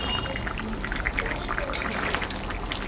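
Cooked liquid poured into a pot of country chicken curry, a continuous close gurgling pour lasting a few seconds.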